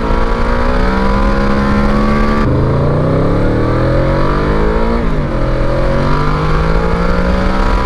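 A Yamaha VMAX motorcycle accelerating hard on a straightaway, its loud engine climbing steadily in pitch, dropping briefly at gear changes, then climbing again, close and continuous with no talk.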